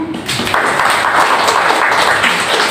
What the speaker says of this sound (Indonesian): boleh kasih tepuk tangan